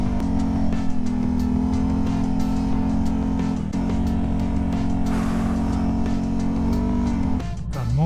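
Can-Am Renegade quad bike engine on a forest trail, a loud, steady throttle drone with brief gear-like shifts and a revving swoop near the end, heard close up without talk.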